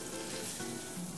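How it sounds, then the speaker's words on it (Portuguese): Sliced calabresa sausage frying in a pan, a steady close sizzle with no voices. "Vamos fritar a nossa calabresa."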